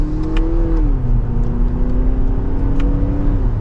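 A 2024 Lexus RX 350 F Sport four-cylinder accelerating in sport mode in second gear, heard from inside the cabin as a loud, steady engine drone that holds its pitch and then dips slightly as revs ease, with no talking.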